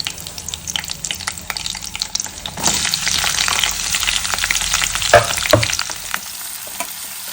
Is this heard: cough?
no